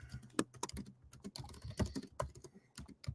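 A computer keyboard clatters under quick, uneven typing, with sharp click-clack keystrokes in irregular bursts and short pauses, close to the microphone and with no talk over it.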